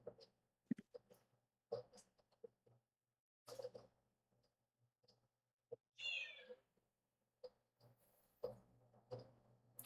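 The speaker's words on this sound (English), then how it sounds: "Apologies for any listeners if you can hear the cat screaming in the background." A pet cat meows and yowls in distress after being shut out of a room, with several short cries and one louder, drawn-out wail around the middle, heard at moderate distance amid quiet room noise.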